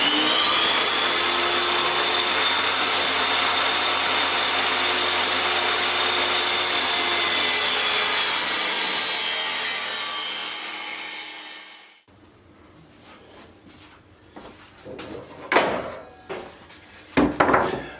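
A power saw rips a board lengthwise into trim strips for a headboard made from an old door, droning loud and steady for about ten seconds before winding down, followed by scattered knocks and wood handling.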